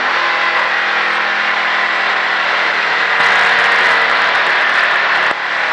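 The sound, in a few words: race car engine as driver comes off the gas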